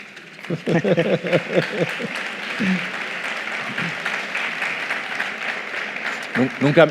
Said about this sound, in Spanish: Nunca me habían aplaudido por una pregunta.